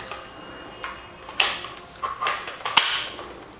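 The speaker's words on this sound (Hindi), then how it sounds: "यहाँ पर प्रेस करके बुलेट्स को यहाँ पर ला लेते हैं" Small plastic clicks and snaps from toy bullets being pressed into the magazine of a PUBG-style toy sniper rifle, a handful of sharp, close clicks scattered irregularly over a quiet background.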